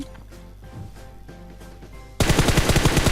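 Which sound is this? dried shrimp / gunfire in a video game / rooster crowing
gunfire in a video game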